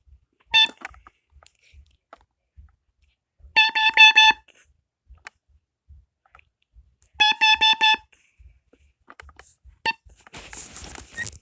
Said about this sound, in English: So this is carbon monoxide alarm.